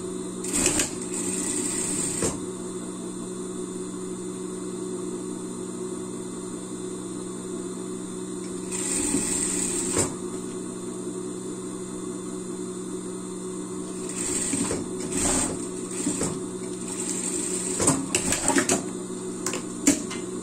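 A sewing machine stitches a doll's small fabric hand, running in long steady buzzing passes with short pauses between them and no talking.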